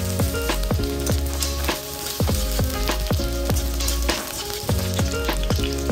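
Chopped onion and capsicum fry in refined oil in a pan, a loud, continuous sizzle broken by repeated sharp crackles and pops, with no voices.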